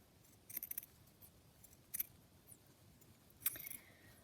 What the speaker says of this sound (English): I'm going to try and trim the ruffle down slightly.